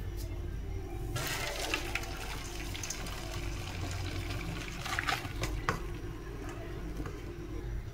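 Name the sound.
draining water from boiled noodles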